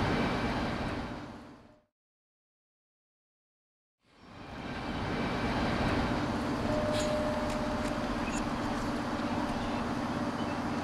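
Train rolling through a Transport Fever 2 cab ride, a steady broadband rumble with faint tonal hum that cuts out for about two seconds, as if muted or through a gap, then resumes at full level with light rattles and squeaks.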